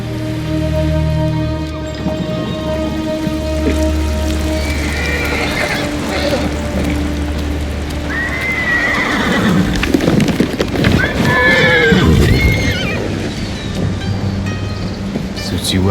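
Kage, a horse in Ghost of Tsushima, gives a loud neigh, with hoof clip-clops and falling rain around it and someone speaking over parts of it.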